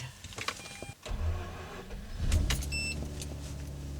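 A Mazda RX-8's rotary engine cranks and catches after a brief pause, settling into a steady low idle with a faint high whine.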